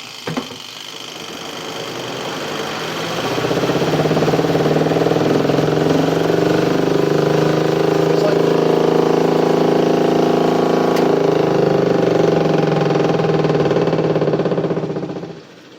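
Pyle portable 2-in-1 washing machine spin dryer running off balance, a loud steady motor hum with heavy rattling and shaking that builds after a few seconds and holds before cutting off near the end.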